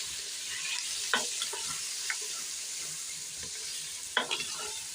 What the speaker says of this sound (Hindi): अब हम ये सारा सामान भी भून लेंगे।